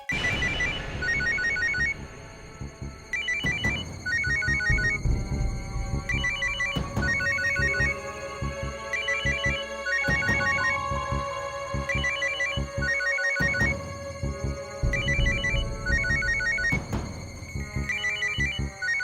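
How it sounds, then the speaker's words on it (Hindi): A telephone rings over and over in bright, repeating bursts of electronic tones, loud and close, with no voices. "ये फोन बज रहा है कब से, कोई उठाता क्यों नहीं है?"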